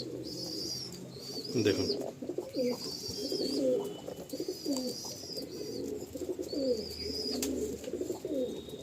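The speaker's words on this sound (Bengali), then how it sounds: "এত ছটফটে পায়রা হাতে ধরে রাখা যাচ্ছে না।" Restless Andhra pigeons held in hand at a loft in Kolkata coo repeatedly in rhythmic bursts, with wing flutters and someone speaking briefly over them.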